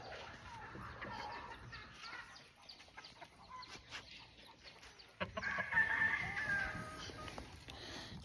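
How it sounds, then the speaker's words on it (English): Chickens in a farmyard, with a hen trying to lay eggs and a rooster nearby, give faint scattered clucks over a noisy outdoor background, then a louder, closer burst of calling near the end. "when you hear chickens doing that, most of the time it's because the hen is trying to lay eggs"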